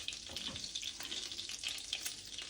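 Butter and oil sizzle faintly but steadily in a pan for spicy devilled potatoes, a soft continuous crackle with no talking.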